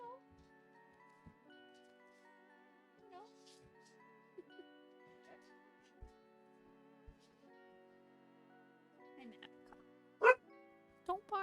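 Puppies barking and yipping indoors at a package delivered to the door, short faint yelps and whimpers scattered over a quiet background, ending with a couple of louder sharp barks.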